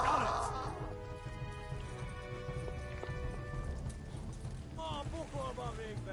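Horses gallop in the Kingdom Come: Deliverance video game, with a dense rumble of hooves and clattering hoofbeats running on under battle noise, with brief higher calls near the end.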